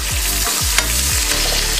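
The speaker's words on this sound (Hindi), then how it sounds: "अब मैं इसके अंदर अदरक और हरी मिर्च डालूंगी।" Ginger and green chilli sizzle in a pan with roasted whole spices, a loud, steady frying hiss throughout, with a few faint scrapes of stirring.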